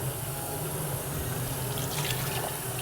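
Tap water runs steadily into a pot of rice being rinsed in a home kitchen, a continuous close splashing hiss with faint clinks, and no voices.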